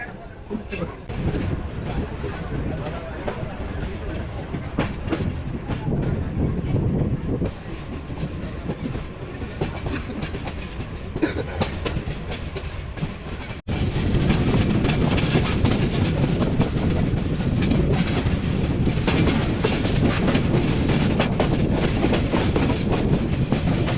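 The Parabat Express rumbles onto the Bhairab Bazar railway bridge, a steady loud roar of wheels and carriages heard from on board that grows heavier and more hollow once it is on the span.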